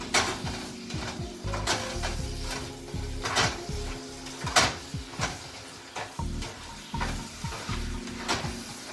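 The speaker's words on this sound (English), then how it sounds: "now I'm going to mix in the cauliflower rice into the mix" Cauliflower rice gets stirred into a stuffed pepper mixture in a skillet, giving repeated scraping strokes and clinks of the utensil against the pan over a continuous low sizzle, close and fairly loud.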